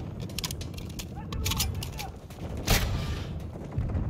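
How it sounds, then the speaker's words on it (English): Weapon reload in Call of Duty Modern Warfare 2 co-op gameplay: mechanical clicks and metallic clacks of the gun action under steady battle noise, with a sharp louder impact near the middle and voices over radio. "Reloading."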